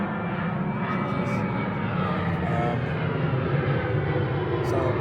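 A steady airplane engine drone overhead, a broad roar holding constant throughout with no voices.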